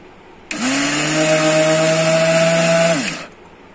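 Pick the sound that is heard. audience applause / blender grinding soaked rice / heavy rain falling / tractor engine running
blender grinding soaked rice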